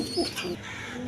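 High-flying Giribaz pigeons at a farm coo in soft, low, rounded pulses close by, over a faint background murmur.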